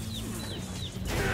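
In Street Fighter V, a dazed fighter triggers the cartoon stun effect: quick chirping bird tweets repeat over dense game sound effects and background noise.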